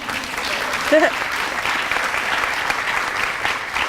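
Applause for instructors at an EMS Academy graduation ceremony, steady crowd clapping filling the room, with a voice briefly rising over it.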